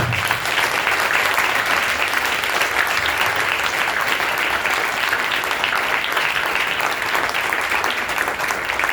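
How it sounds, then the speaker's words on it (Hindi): Dense, steady applause from a congregation at a Christian gathering celebrating the birth of Jesus, loud and close, filling the space without a break for nine seconds. "यीशु मसीह के लिए तालियां तो बनती है।"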